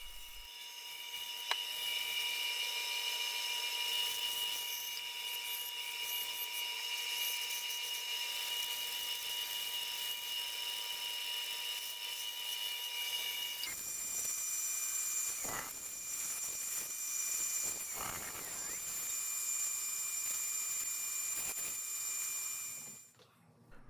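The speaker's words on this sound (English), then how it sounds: "I'm using a Dremel to do the sanding around the head." A high-pitched Dremel rotary tool whines continuously as it sands a wooden animal carving, its pitch shifting partway through before cutting off at the end.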